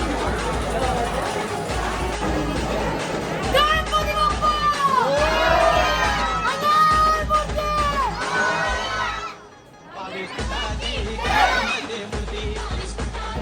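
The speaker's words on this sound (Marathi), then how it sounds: "फुल गर्दी आहे मित्रांनो, फुल गर्दी" A huge, noisy crowd packed in for Ganpati darshan in Mumbai, with shouting, cheering and overlapping voices close around, surging loudly, dipping briefly near the end, then swelling again.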